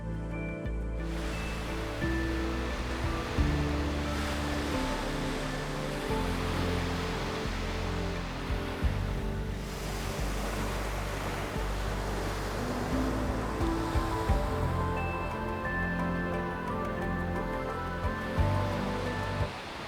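Waves washing onto a fine sandy beach in Senja, Norway, a steady broad roar of surf with gentle swells, heard alone without any voices.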